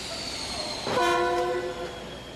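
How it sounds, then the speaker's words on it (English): A Beijing to Hong Kong Express passenger train in China sounds a sustained horn over steady rumbling rail noise, the horn swelling loudly then fading as the train runs on. "It's time to board China's newest attraction, the Beijing to Hong Kong Express."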